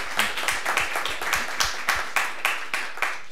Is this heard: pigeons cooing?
no